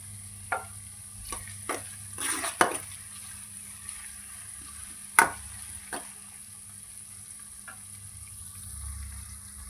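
Onions and curry leaves fry in a pan for a fish curry, giving a faint continuous sizzle with a few sharp scraping and stirring knocks spread across the clip.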